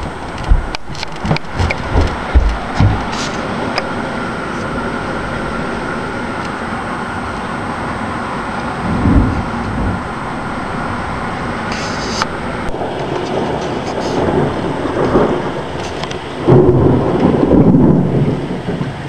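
Outdoor thunderstorm with heavy rain, deep rolling thunder rumbles swelling and fading over a steady wash of rainfall, with several loud cracking bursts near the start and a stronger rumble toward the end.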